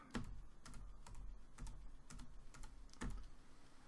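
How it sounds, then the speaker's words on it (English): Keys clatter on a computer keyboard as a name is entered for an X-Plane 11 3-D cockpit, a steady run of close taps with a few heavier strokes, no voices. "we're going to type in a name"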